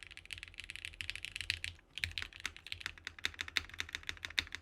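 Fast, steady typing on a TKL mechanical keyboard with Alpaca switches and a carbon fiber plate, close and crisp, with a brief pause near the middle before the clacking resumes.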